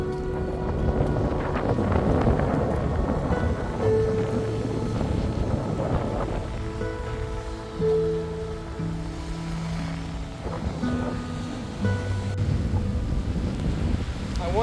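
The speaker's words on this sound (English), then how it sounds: "Yeah, it's really windy." Strong wind roars against the microphone on a coast in cassowary country near the water, a steady broadband rush with gusts that continues the whole time, with background tones and faint voice-like sounds underneath.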